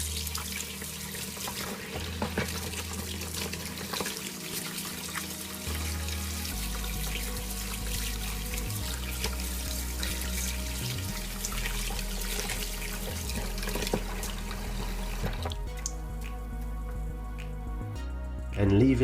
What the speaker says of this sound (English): I wash it under running water.